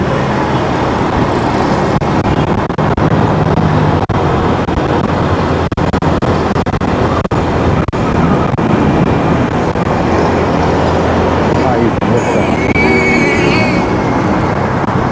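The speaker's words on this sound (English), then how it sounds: "Traffic is less. So I think the new coastal road is alleviating quite a bit of traffic on this road." Steady road traffic on a busy street in Davao City, Philippines, a continuous loud wash of passing cars and buses with occasional closer vehicles and faint horn-like tones.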